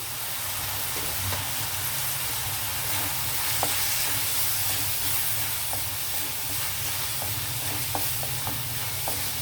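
Curry frying in a pan while being stirred, a steady close sizzle and hiss with scattered scraping clicks from the spoon, continuous and without talk.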